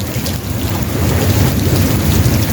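Heavy rain pours down over a flooded area with thunder rumbling, a loud, dense, continuous wash of downpour and deep rolling rumble close by, with no talking.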